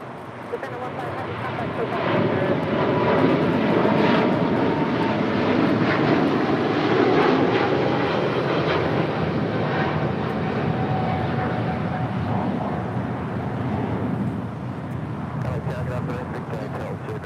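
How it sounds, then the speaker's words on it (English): A Japan Airlines Boeing 777-300ER departs LAX for Tokyo Haneda with a loud, sustained jet engine roar building after a couple of seconds and holding steady, while people talk over it and radio chatter is heard. "This is Japan Airlines Flight 15 departing to Tokyo Haneda on the 777-300ER."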